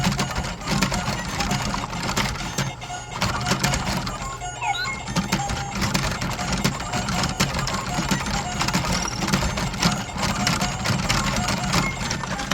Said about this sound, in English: And you have to keep the crank turning.